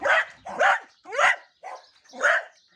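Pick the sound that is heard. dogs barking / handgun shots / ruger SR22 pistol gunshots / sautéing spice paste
dogs barking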